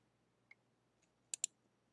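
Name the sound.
mouse click on computer design software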